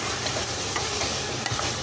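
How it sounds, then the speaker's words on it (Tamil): Mushrooms sautéing with spices in a pan for Diwali mushroom biryani give a steady close sizzle with soft stirring scrapes, brief and even throughout with no talking. "இப்போ இதையும் கொஞ்சம் வதக்கிக்கலாம்."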